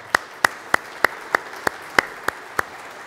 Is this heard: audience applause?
yes